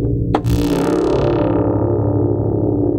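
A legendary synthesizer on preset 2 plays loud, thick low tones with a distorted, buzzy edge, sustained and alone, with a bright attack that mellows as the note holds.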